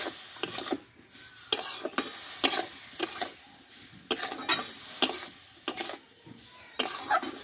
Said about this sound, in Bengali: আমগুলো ঢেলে দিয়ে আমি ভালোভাবে নাড়তে থাকবো